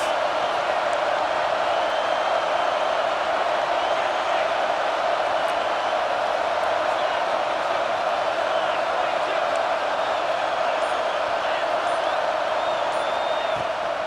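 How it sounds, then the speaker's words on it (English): A stadium crowd at a college football game against TAMU makes a constant, even roar of massed voices that fills the whole stretch without distinct cheers or peaks. "This crowd trying to make life miserable for this offense."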